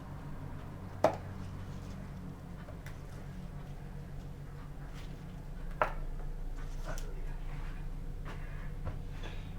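Celery stalks sliced thinly with a knife on a board, quiet and close, with two distinct sharp cuts standing out over faint background noise.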